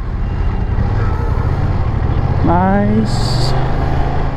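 A 2020 BMW F900 XR parallel-twin motorcycle engine drones steadily and loud while riding, with a rising then easing rev sweep near the end; a rider speaks briefly over it.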